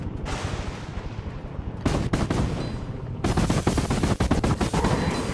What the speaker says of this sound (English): That is an automatic pistol.